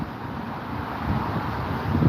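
Wind buffeting the microphone outdoors at Wolfe Tone Park, a steady low rushing roar that swells slightly toward the end, with no talking.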